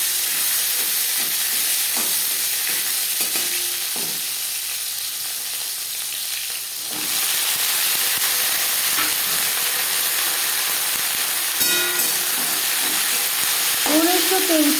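Sliced bitter gourd hisses loudly in hot refined oil tempered with cumin, a steady, close sizzle that dips briefly midway and then resumes, with faint clinks of a utensil.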